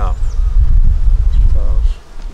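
Honey bees swarm around their hive in a South Carolina bee yard, producing a steady, dense low buzzing hum throughout, with a voice briefly audible over it.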